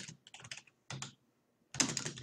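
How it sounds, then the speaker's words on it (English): Quick bursts of keystrokes on a computer keyboard, close and fairly quiet, coming in three short clusters separated by brief pauses as information is entered. "just start typing information"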